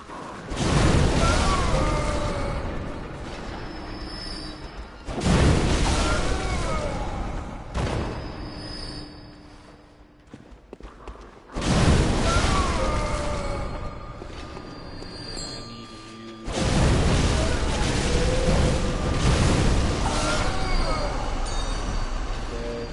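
Loud booming blasts from the Cannon Boy enemy in the video game Bloodborne, three or four heavy explosions spaced several seconds apart, each followed by rumbling and clatter.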